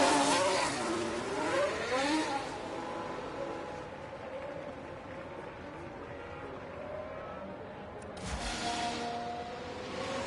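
A race car engine revs and shifts on the Zandvoort circuit in the F1 Manager 24 game, a Brabham B-spec car running in the race, with rising and falling engine tones that fade down before a louder pass near the end.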